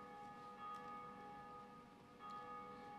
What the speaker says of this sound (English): That freaking bell scares me every single time